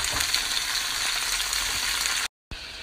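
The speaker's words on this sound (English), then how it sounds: "I'm putting my onions and my garlic, my peppers in here to saute" Onions, garlic and bell peppers sauté in a pan with seasoning for a vegan succotash, a loud, even, close sizzle that cuts out abruptly near the end and then resumes briefly.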